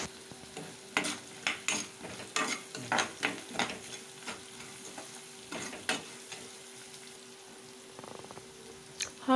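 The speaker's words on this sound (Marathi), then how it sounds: "थोडा वेळ परतून घ्यावे" Puliyogare ingredients being sautéed in a pan, with a soft sizzle under repeated scraping stirs in an uneven rhythm, fairly quiet and close, with no talking.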